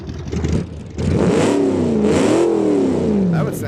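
A modded car engine in BeamNG.drive revs hard from idle, climbing and falling in pitch in a loud, close, rasping surge that holds for a few seconds before easing off.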